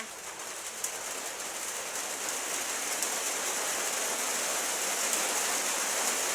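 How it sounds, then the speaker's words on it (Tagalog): Rain falls in a steady, even hiss that holds for the whole stretch with no pauses. It sounds close and fairly soft, and no one speaks over it. "Ulan dito ay."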